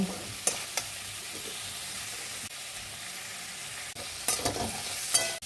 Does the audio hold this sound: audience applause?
no